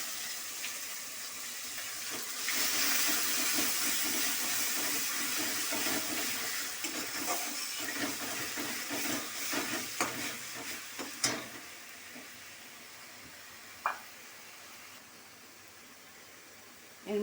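Bottle gourd peel added to garlic frying over low heat in a pan, a quiet sizzle with stirring and scattered clicks and knocks, fading toward the end.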